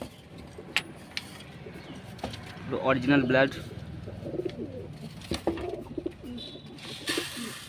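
Male pigeons in a loft, big-size Kalshira and Kaldhum high-flying breeds, coo in a soft rolling burst near the middle while someone talks over other faint chirps.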